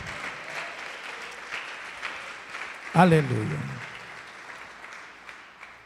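A church congregation applauds steadily during a sermon, a continuous wash of clapping at moderate level, with a voice briefly calling out near the middle.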